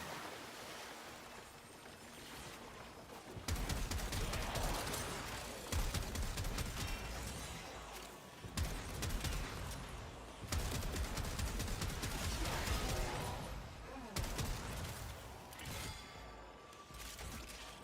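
Continuous gunfire and bursts of explosions from the video game Warframe roar in dense, loud waves, with heavy blasts recurring every few seconds throughout.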